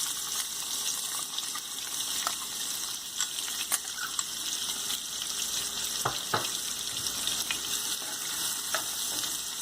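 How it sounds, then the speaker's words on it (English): Chopped onion and cumin seeds frying in hot oil, a dense continuous sizzle with occasional spatula clicks, close and steady throughout. "We have to cook this onion till it becomes golden brown"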